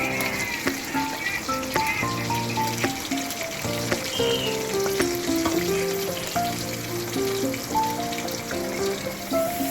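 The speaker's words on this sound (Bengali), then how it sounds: "এই যে আমি বেগুন আলুগুলো এখন ভেজে নিব।" Eggplant and potato pieces fry in hot oil with a loud, continuous crackling sizzle close by, while a utensil stirs and knocks against the pan throughout.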